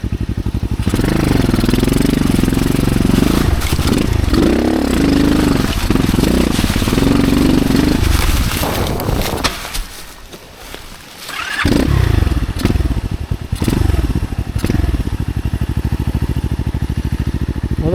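A motorcycle rides a dirt trail in second gear, its engine loud and close with a steady throbbing drone and rising and falling revs, easing off briefly midway before pulling hard again.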